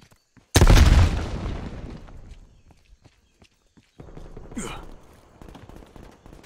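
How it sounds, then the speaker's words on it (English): A frag grenade detonates in Call of Duty Black Ops Cold War Team Deathmatch with a loud, close boom that fades over a couple of seconds, followed after a short lull by scattered gunfire and a shrill whizzing sound. "Throwing frag."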